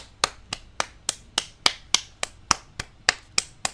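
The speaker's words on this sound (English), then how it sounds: "I must take a moment to jump in and applaud Fantasia" Hand clapping, about a dozen sharp, evenly spaced claps at a steady moderate pace, close and dry, with no voices.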